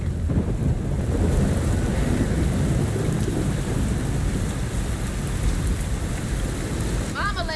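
A stormy scene in the South of Midnight video game, with steady roaring wind and rain and a low rumble of thunder filling the soundscape continuously from start to finish.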